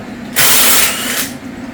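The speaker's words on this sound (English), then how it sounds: "a little 1/4 inch Walmart impact can't break a head bolt loose" A small quarter-inch Walmart impact wrench straining against a head bolt on a 300,000-mile GM 5.3 engine during teardown, a loud, brief hissing whir of about one second over a steady low hum.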